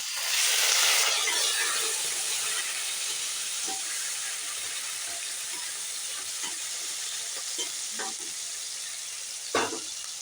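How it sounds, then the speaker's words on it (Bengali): Tomato and ginger paste hits hot oil after a tempering of spices, setting off a bright, hissing sizzle that settles into a softer steady fry, with a few sharp clinks and scrapes. "ফোড়নটা হয়ে গেলে টমেটো আর আদা পেস্টটা দিয়ে দেবো।"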